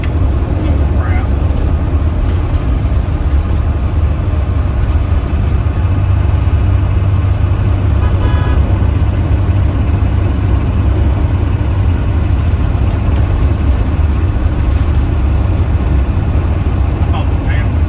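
A 2019 Blue Bird Vision school bus with a Cummins ISB 6.7L diesel running, a loud steady low rumble filling the cabin, with people talking faintly over the engine throughout.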